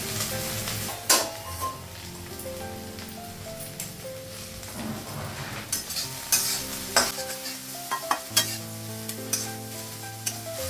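Panch phoron spices frying in hot oil in a home kitchen, with steady sizzling, stirring scrapes and a few sharp clinks of utensils against the pan, close and moderately loud, no talking.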